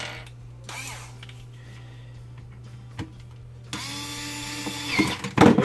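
A Bosch cordless drill driver, running on new rechargeable AA batteries, whirs over a low steady hum: quiet mechanical creaks at first, then the motor spins up into a louder, sustained whine with a few rattling bursts near the end.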